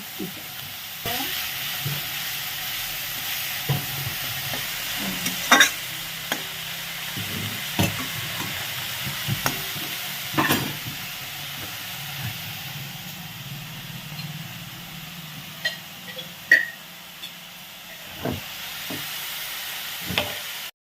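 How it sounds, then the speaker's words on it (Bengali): Prawns sizzle in hot oil in a pan, a steady frying hiss broken by soft clicks and stirring knocks, close and continuous without speech. "পাঁচশো মাছ তাই তিনবারে ভাজতে হবে তাই আমি ভেজে নিয়ে দেখাচ্ছি"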